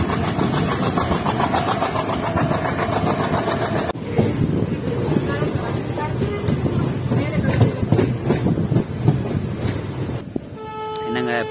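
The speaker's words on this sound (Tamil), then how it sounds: "பேசிட்டு இருக்கும்போது ட்ரெயின் எடுக்கிறாங்க," Punalur Madurai Express pulling away from a station, a steady low rumble of engine and wagons with faint clatter building underneath, a sharp change near four seconds, and background voices throughout.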